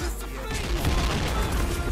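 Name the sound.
gunfire spray in the video game Point Blank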